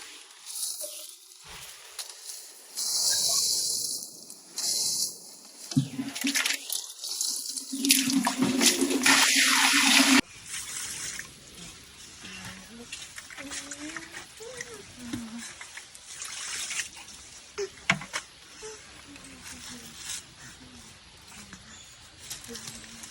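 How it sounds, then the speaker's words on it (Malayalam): Water rushes and splashes steadily as a home fish tank is half drained during cleaning, loud for about ten seconds before settling into faint trickling beneath a person talking. "ഫിഷ് ടാങ്ക് പകുതി വെള്ളം കളഞ്ഞിട്ടുണ്ട്."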